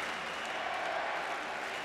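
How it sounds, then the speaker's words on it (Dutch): A crowd applauds at a men's keirin track cycling race at the 2004 Athens Olympics, a steady, even wash of clapping and cheering from a large audience throughout. "Hoort u het publiek?"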